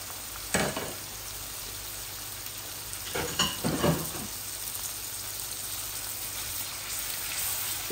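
Baby chicken added to a frying curry gives a close, steady sizzle, with a few short clatters and scrapes of stirring in the first half before the frying settles into a soft continuous hiss.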